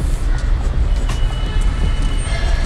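A metro train at Shahdara station in Delhi rumbles steadily and loudly, a continuous low roar of wheels and carriages filling the whole stretch.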